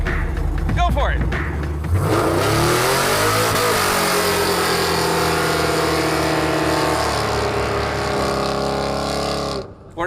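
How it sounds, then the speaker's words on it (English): A muscle truck with a small block Chevy in its bed does a burnout for distance: a loud, sustained engine roar and revving that holds for several seconds before cutting off abruptly at the end. "He's going to do a burnout for distance with a dog and a small block Chevy in the bed of the muscle truck"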